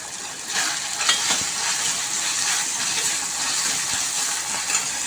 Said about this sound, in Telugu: ఆనియన్స్ కాస్త కొంచెం ఫ్రై అయింది కదా